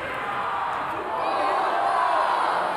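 Crowd noise from a college baseball stadium during an NCAA tournament game between Louisiana Tech and NC State, a steady dense roar of many voices that swells slightly louder partway through and holds, with no clear speech.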